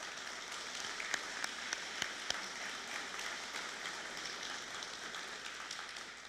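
Distant applause from an audience at a peace officer academy graduation ceremony, a faint, even patter of many hands clapping that continues steadily for several seconds.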